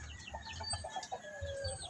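Brahma chickens cluck softly inside their coop, a few short calls close by over a faint rooster-like crow, with no talking.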